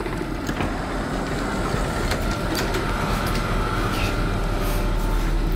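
German S-Bahn commuter train running, a steady loud rumble with faint rail clatter and brief higher clicks, no talking.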